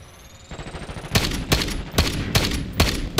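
Rapid automatic gunfire rings out in Call of Duty: Black Ops 6, loud repeated bursts of about five sharp cracks after a low rumbling lead-in, over a thin high whine.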